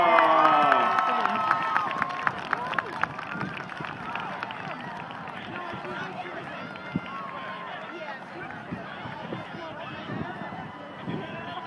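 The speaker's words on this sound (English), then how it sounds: "let's have a big round of applause for our homecoming king, queen, prince, princess, and the entire homecoming court" A large high school homecoming crowd cheers and shouts for the newly crowned king, queen, prince, princess and court, a loud, dense roar of voices with some clapping that holds steady throughout.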